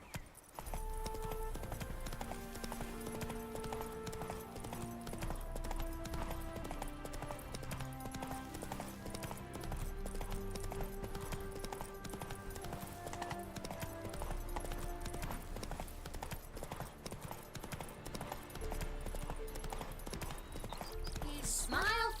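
Hooves of the horse Roach clip-clopping in The Witcher 3, a steady trotting rhythm running throughout under a continuous music score.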